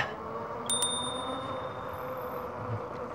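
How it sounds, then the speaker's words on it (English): Two quick bright dings from an e-bike's bicycle bell, with a ringing tone that fades under steady outdoor road noise during a ride. "Lady liked my bell."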